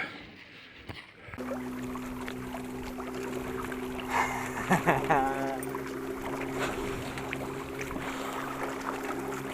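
Outboard motor on a pontoon crossing a lake at Solina, a steady droning hum with a fixed low tone running throughout after a brief quieter start, with water splashing and a few faint sounds over it.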